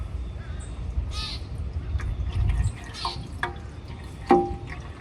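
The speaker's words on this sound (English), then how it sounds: "And there's oil from the filter dripping into the pan." Irregular small drips and plinks of transmission oil falling from the filter of a Toyota 4Runner into a pan, scattered over a low background rumble, with a few sharper drops standing out.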